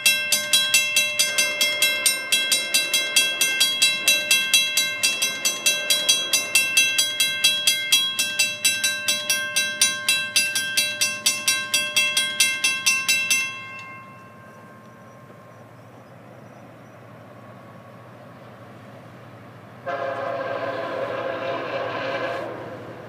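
A Florida East Coast freight train passing close by, its horn blasting in a long pulsing sequence over the rumble and clatter of the cars, then the horn stops and a steadier rolling rumble continues.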